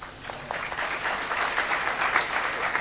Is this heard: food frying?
no